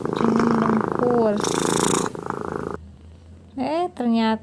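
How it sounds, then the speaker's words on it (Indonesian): A sleeping cat's low purring, snore-like rumble runs close and continuous, mixed with louder rising wails and a short hissy burst; it is not clear these all come from the cat. "Awal-awalnya juga aku kaget kucingnya mendengkur."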